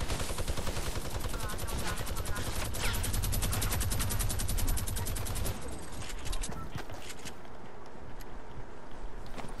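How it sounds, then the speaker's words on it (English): Automatic gunfire rattles in a Fortnite match near the Red Barn, with rapid close bursts of shots for about five seconds before the firing stops and quieter ambient game sound remains. "Oh, I'm getting shot at."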